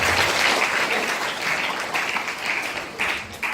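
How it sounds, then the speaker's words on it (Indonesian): Children and staff give loud, dense applause at the opening of a silat branch at an orphan pesantren, with the clapping sustained throughout and easing slightly toward the end. "Jadi tepuk tangan buat kalian semua."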